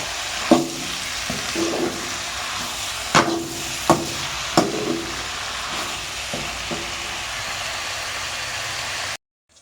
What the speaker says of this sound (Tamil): வெங்காயம் வதங்கின பிறகு தக்காளியும் சேர்த்து வதக்கலாம் நல்லா